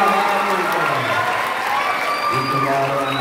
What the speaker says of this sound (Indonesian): Kita berikan aplaus untuk Ketua Komite kita